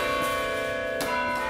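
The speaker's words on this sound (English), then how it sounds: "I play the chimes in the student building at 6 o'clock every Friday" Tower chimes in a student building at Indiana ring with sustained, resonant bell tones, a new strike entering about a second in over the lingering hum, loud and unaccompanied by speech.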